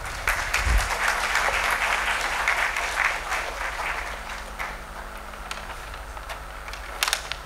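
An audience at a healthcare innovation challenge launch claps steadily, fairly loud at the start, then gradually fading toward lighter scattered clapping near the end.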